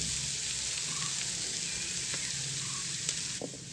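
Dried fish and jackfruit sauté in hot oil for a Konkani vegetable dish, giving a steady close sizzle throughout with a faint stir near the end.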